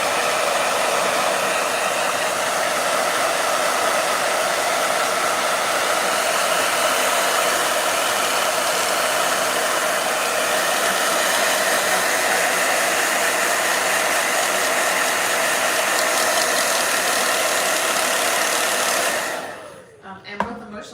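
Blow dryer running in a hot room, a loud steady broadband whoosh held continuously for about nineteen seconds before cutting off, with a faint voice mixed underneath.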